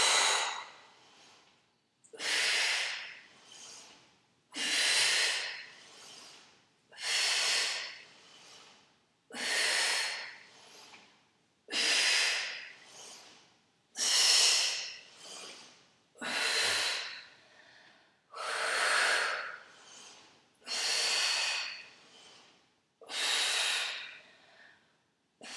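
Heavy, rhythmic breathing during an advanced exercise workout: about a dozen strong, hissing exhales and inhales come close and loud at an even pace, each followed by a short pause.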